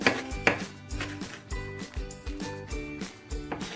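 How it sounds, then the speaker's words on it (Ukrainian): A knife finely chops parsley and other herbs rapidly and evenly on a board, quick rhythmic taps close by with a faint background hum, no talking. "Зелення нарізаю дрібно"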